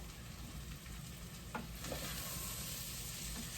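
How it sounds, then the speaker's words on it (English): Orzo toasts in melted butter and vegetable juices in a pan, making a soft, even sizzle with a few quiet stirring scrapes, close and without speech. "our orzo is starting to toast in the butter and the juices from the vegetables."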